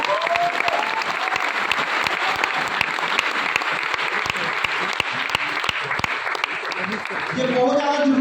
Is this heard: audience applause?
yes